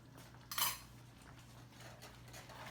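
A metal spoon strikes once against a cooking pot, a single sharp clink early on, then only a faint quiet simmer for the rest.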